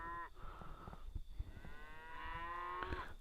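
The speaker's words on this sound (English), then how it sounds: "There you can see there's a cow out there." A cow in a field lets out long, drawn-out moos from a distance, faint over low background rumble and rustling.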